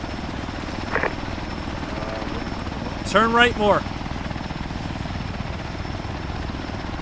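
A military helicopter in the video game Arma 3 keeps up a constant rotor and engine drone throughout. Players talk over it, including a brief radio-style call.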